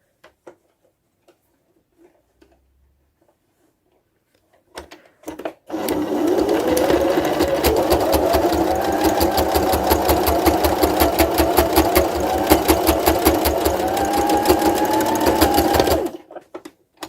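A sewing machine stitches a fabric face covering, running steadily for about ten seconds with a rapid, even mechanical whir and tapping needle rhythm, starting after a few faint clicks and stopping abruptly.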